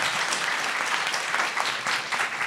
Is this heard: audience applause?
yes